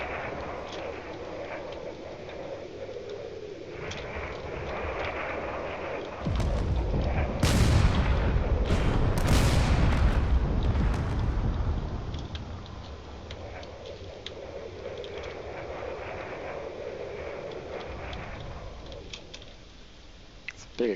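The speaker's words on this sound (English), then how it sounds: "It's a big explosion over here." A crashing corvette ship in a space combat video game explodes with a deep, booming roar that swells for several seconds, with crackling bursts on top, over ongoing game ambience while someone talks.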